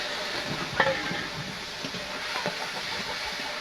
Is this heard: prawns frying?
yes